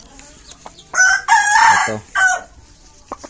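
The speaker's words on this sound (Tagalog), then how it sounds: "So ito yung isang manok natin na kailangan natin gamutin." A sick rooster with a watery right eye calls out in a few loud, close, harsh cackling bursts, with a brief word spoken nearby between quieter moments.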